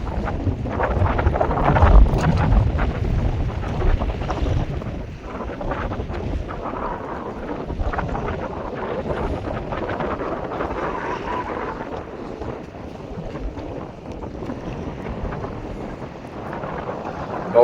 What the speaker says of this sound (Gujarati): પવનનો જ અવાજ આવતો હોય, સડસડાટ બોલે.